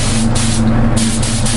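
Lustre spray hisses onto a photo canvas print in a ventilated room, loud and close, in a continuous rushing burst with brief dips in pressure, over a low machine hum.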